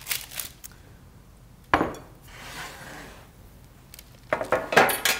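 Spoon scraping and clinking against a bowl and baking sheet as dark chocolate and banana cookie dough is portioned out, a few sharp metallic clinks and soft scrapes spread across a quiet kitchen.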